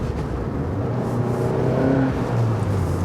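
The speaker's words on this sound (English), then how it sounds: "really turn up the RPMs." An Abarth 595C Turismo's 165 hp 1.4 engine revs hard and climbs in pitch, droning loudly and steadily throughout with no talking.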